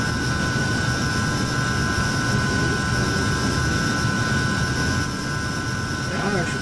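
Aircraft engines droning in Microsoft Flight Simulator during a flight along the Mozambique coastline, a loud constant whine and rumble with steady tonal hum, unbroken throughout.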